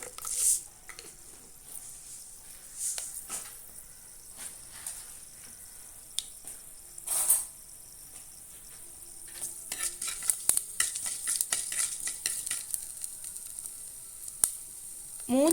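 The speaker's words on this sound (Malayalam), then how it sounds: "അര ടീസ്പൂൺ കടുകിട്ട് കൊടുക്കാം" Mustard seeds tossed into hot oil give a thin steady sizzle broken by scattered sharp pops and crackles, louder bursts near the middle and end, without speech.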